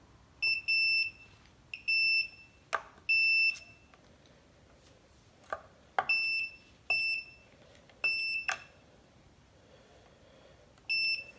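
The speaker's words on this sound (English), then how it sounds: "there should be a beep if it's conducting" Multimeter continuity tester beeping while checking the shielding between the cavities of a Fender/Squier Jaguar guitar: about eight short, clean, high electronic beeps in uneven bursts, with faint clicks of probes touching in between.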